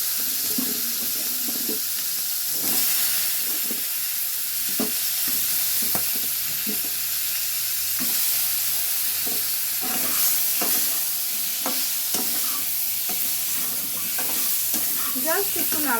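Carrots and beans fry with salt and turmeric in a pan, giving a steady close sizzle while a utensil scrapes and stirs them in repeated strokes, with no one talking.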